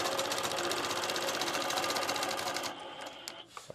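A sewing machine stitches a quilt guided by a ruler template, giving a fast, steady close-up mechanical whir for almost three seconds before it slows and stops, leaving a few soft clicks.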